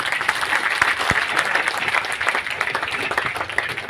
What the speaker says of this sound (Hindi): एक बार हनुमान किसान जी के लिए जोरदार ताली बजा दो।